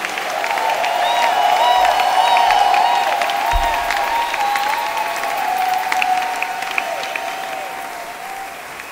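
A church congregation applauding at a French-language worship service, a dense sustained clapping crowd swelling and then slowly easing off, with a sustained musical tone running underneath.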